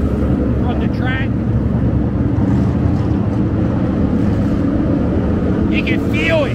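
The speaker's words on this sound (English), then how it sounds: "You can feel it in your body, the engines." NASCAR race cars at the Monster Mile roar past on the track about 20 yards away, making a dense, continuous engine rumble that fills the whole stretch with little change in level.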